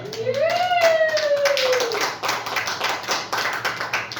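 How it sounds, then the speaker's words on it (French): A church congregation claps together in praise of the Lord during a prayer service: dense, sustained applause with a sliding vocal cry rising over it at the start, then continuing steadily to the end. "Est-ce qu'on peut acclamer le Seigneur?"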